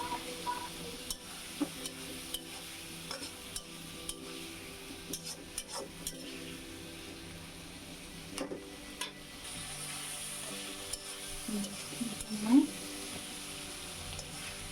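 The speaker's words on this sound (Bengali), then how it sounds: "আমি একটু টমেটো দিয়ে এখন একটু টমেটো দিচ্ছি টমেটো দিয়ে আর একটু কষিয়ে নেবো" Tomatoes fry with a cooked-down spice paste in a pan, giving a faint, low sizzle. Scattered taps and scrapes of stirring punctuate it, with one louder scrape near the end.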